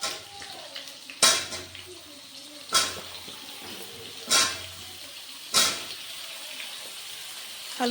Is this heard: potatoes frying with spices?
yes